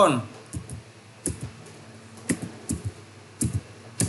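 Clear keystrokes on a computer keyboard arrive in small clusters of taps with short pauses between them, recorded close and fairly loud against a quiet background.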